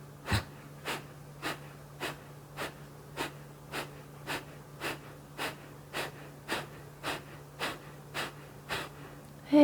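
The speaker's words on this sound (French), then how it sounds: "Vous inspirez et expire par le ventre." Rapid, rhythmic belly breathing in a guided series of about fifteen forceful breaths, each a short sharp puff at an even pace, close and clear over a faint steady low hum.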